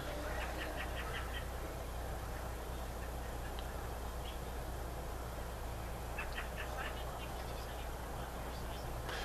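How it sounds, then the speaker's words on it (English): Birds calling outdoors, with short bright chirps and duck-like quacks coming in brief bursts over a steady low background hum, fairly faint and at a distance. "The birds are always so active"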